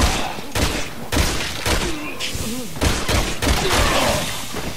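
Assault rifle RN from Resident Evil 6 firing about seven or eight loud, evenly spaced shots, each a sharp burst with a booming tail, over faint background game sounds.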